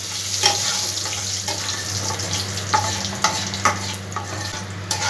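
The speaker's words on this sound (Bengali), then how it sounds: "ভালো করে একটু ফোড়নটা আমি নাড়াচাড়া করে নেব।" Bay leaves, dried red chilies, cumin and kasuri methi sizzle in hot oil as a tempering, with steady frying hiss and occasional close spatula scrapes and taps in the pan.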